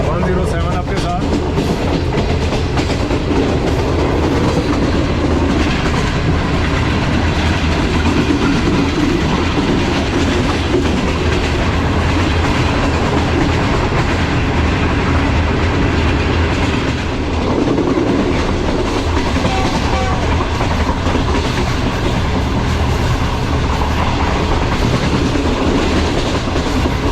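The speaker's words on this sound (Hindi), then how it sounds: "रेलवे स्टेशन से पास हो रही है ट्रेन" A Green Line passenger train runs past a railway station with loud, continuous rumbling and rhythmic clickety-clack of wheels on rails, heard from on board, with a voice speaking over it at times.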